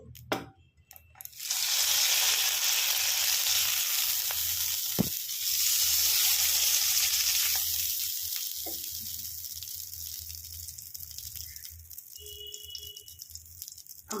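Rohu fish paturi cooks in an oiled pan on a very low flame, making a soft, continuous sizzle with a few light knocks and rattles of the pan. The frying runs throughout, with no voices.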